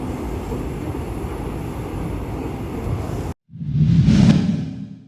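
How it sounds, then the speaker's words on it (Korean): Seoul subway train heard from inside a carriage: a steady low rumble and rush of wheels and air, then a brief cut followed by a swelling whoosh, loud and without voices. "no hay ruido, no hay música, solamente el sonido del metro"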